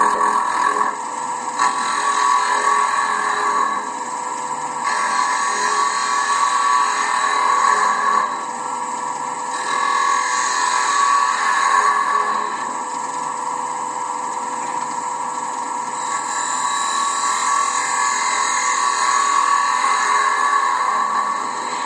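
A wood lathe turns a mahogany box lid, humming steadily with a whining motor tone, while the tool's cuts come and go in a rough rasping texture layered over the constant drone.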